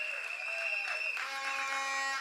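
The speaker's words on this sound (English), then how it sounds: "Give her a round of applause." Crowd applause for the political leader Kamla Persad-Bissessar at a UNC general election community meeting at Arima North Secondary School, a sustained wash of clapping with a bright tonal hum running through it and no speech.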